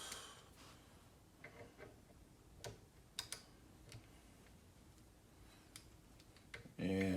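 Bolts being snugged with a torque wrench set to 89 inch-pounds in a star pattern, heard as sparse sharp ratchet clicks and ticks over quiet background, close by, ending with a louder burst of noise.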